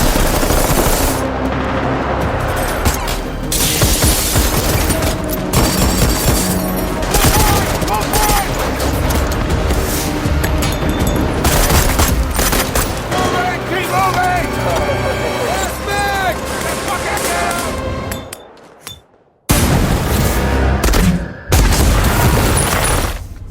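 Rapid machine-gun bursts and heavy gunfire crackle almost without pause through a movie shootout, loud and dense with booms, under shouted dialogue, before a brief drop to near silence and a final flurry.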